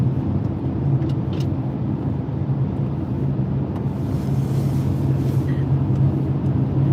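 Interior drone of a car being driven through a snowy mountain area near Åreskutan, a steady close engine and road rumble with a low hum throughout and occasional faint clicks.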